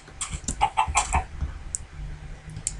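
Chickens clucking in the Minecraft video game, a quick run of short clucks and clicks near the start, then scattered fainter clucks with a low hum underneath.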